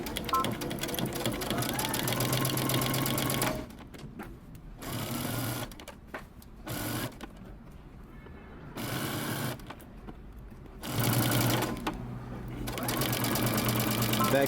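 A sewing machine runs in steady bursts, stitching a seam with a 5/8-inch seam allowance on a men's button-up shirt, with short back-stitches at the start. Loud whirring stretches alternate with pauses and brief spurts, with no talking.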